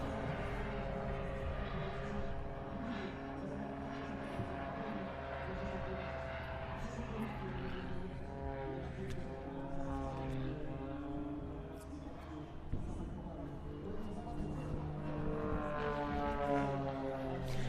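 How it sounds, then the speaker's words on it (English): A propeller aircraft at a Leszno airshow drones steadily with a rough, odd-sounding engine note, the tone wavering throughout while announcers talk over it. "that aircraft just should not be making that noise"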